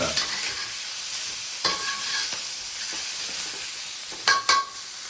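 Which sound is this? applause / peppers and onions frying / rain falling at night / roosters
peppers and onions frying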